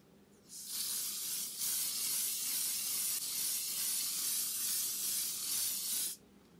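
Sunscreen spray from a shaken can misted onto half of a face, one continuous close, loud hiss lasting about five and a half seconds, starting and stopping abruptly.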